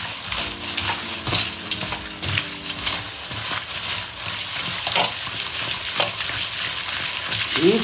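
Prawns being stirred and fried in a pan in a home kitchen, with a steady sizzle and repeated scraping stirs throughout, loud and close with no talk.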